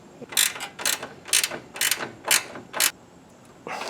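A hand ratchet tightening the top bolts on a Firebird Trans Am headlight assembly, six evenly spaced clicking strokes close up, then a pause and another start.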